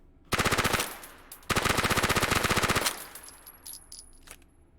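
Two long bursts of rapid automatic fire from an MP9 submachine gun in the H3VR virtual-reality shooter, loud and close, the second burst longer, followed by faint clatter and small metallic clicks.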